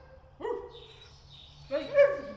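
A trick dog barks on command twice, a short bark followed by a longer, higher bark after a pause, clear and close against a quiet background.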